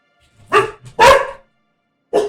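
Dog barks a few times, sharp and fairly close: two quick barks, a short yip, then another bark after a pause, with no talking over them.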